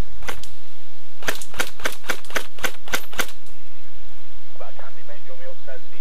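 A Tokyo Marui AUG high-cycle airsoft gun fires during an outdoor airsoft battle day: a quick burst of sharp snapping shots, then a rapid string of about eight loud cracks, with voices talking faintly afterward.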